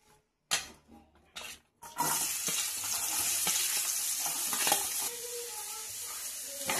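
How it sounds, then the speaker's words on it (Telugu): Sliced onions dropped into hot oil in a pan, a few clatters and stirs first, then a loud steady sizzle of frying that continues close up. "ఇప్పుడు ఉల్లిపాయలు వేసేస్తున్నాం."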